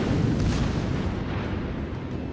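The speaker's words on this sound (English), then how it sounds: "I don't know why I only fired once." The main gun of the Japanese battleship Musashi fires in World of Warships, heard as a deep, heavy booming roar that fills the whole stretch at a steady loudness, with no distinct separate shots.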